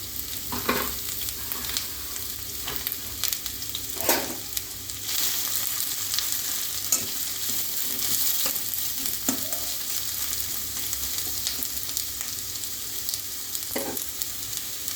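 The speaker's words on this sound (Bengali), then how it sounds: "পেঁয়াজ কুচিটা দিলাম," Chopped onion sizzles in hot oil for a Bengali fish chop, a steady close frying hiss with occasional sharper crackles and stirring clinks throughout, no talking.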